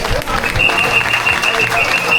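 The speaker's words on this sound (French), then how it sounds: "On peut les applaudir, bravo." A short burst of applause from an audience at a ceremony, moderately loud and continuous, with a faint whistle-like tone and some crowd noise under it.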